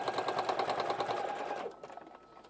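A sewing machine stitching fabric with white thread gives a steady, rapid mechanical clatter that runs close and loud, then stops abruptly, leaving a brief quiet tail.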